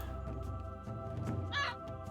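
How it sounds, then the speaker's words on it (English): A raven in the video game Age of Mythology gives a single short caw, fairly clear above a low droning game background hum. "Raven still flapping about."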